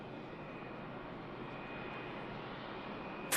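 An aircraft taxiing at Manchester Airport, a faint, steady engine drone heard from a distance with a thin high whine held throughout, and no speech.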